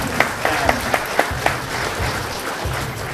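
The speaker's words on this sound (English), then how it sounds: "Can we have a round of applause," An audience at a game jam event at EGX Rezzed 2015 claps in a few sharp early slaps that swell into a steady, moderately loud round of applause lasting a few seconds.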